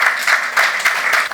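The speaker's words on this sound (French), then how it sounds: "je vous demande de les applaudir très fort" An audience gives sustained, steady applause for the American government at a formal ceremony, the clapping loud and continuous throughout without any voices over it.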